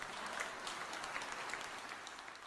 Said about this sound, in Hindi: मनोबल बढ़ाने के लिए बजी तालियों से पूरा सेंटर गूंज उठा।